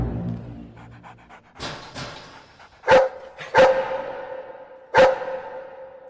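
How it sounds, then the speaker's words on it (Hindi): A dog in an Indian comedy film scene pants softly at first, then lets out three loud, sharp barks spaced about a second apart with quiet panting between them. "ये तो कुत्ता है।"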